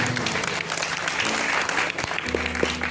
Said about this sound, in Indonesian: Tepuk tangan buat Tuhan yang Maha Kuasa.